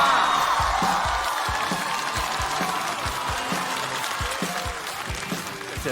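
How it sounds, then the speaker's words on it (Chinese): Studio audience applause and cheering with whoops for stand-up comedian Nangua taking the stage on a comedy competition show, a loud sustained clatter of clapping that holds steady throughout. "掌声有请南瓜"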